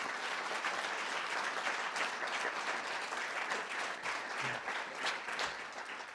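Applause from an audience at an annual dinner forum, a continuous wash of many hands clapping, evenly sustained and moderately distant, with no talking over it.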